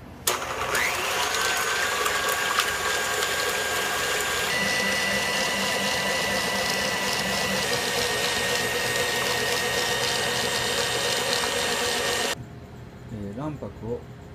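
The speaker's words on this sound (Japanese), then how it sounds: "卵白は泡立てます。" An electric mixer whips egg whites for a rich Valrhona chocolate gâteau. It gives a loud, steady whirring hum for about twelve seconds and then cuts off, leaving near silence.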